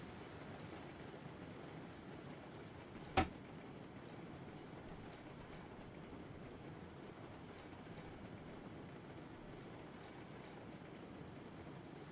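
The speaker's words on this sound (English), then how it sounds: "So we will watch the train pass by here and we'll hop on to the end and catch back up to her." A train rolls past in Railroads Online as a faint, steady low rumble with a washing, surf-like texture, broken once by a single sharp click partway through.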